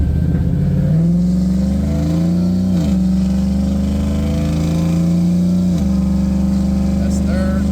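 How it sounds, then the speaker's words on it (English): A 2006 Chevrolet Trailblazer SS with a 4L80E transmission swap pulls hard from a takeoff, its engine droning loud and steady with rising pitch that drops at each upshift, heard from inside the cabin with a voice talking over it. "I'm gonna do a little bit of a takeoff here"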